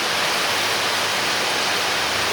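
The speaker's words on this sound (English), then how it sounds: "It's so windy in the Philippines that like many trees have been collapsed because of the heavy rainstorm." Heavy rainstorm with strong wind in the Philippines, a dense, steady roar of pouring rain and gusting air filling the whole stretch, loud and unbroken.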